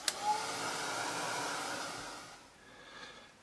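A hair dryer blows steadily on a freshly painted art journal page, a close, continuous whoosh lasting a couple of seconds before it is switched off and fades.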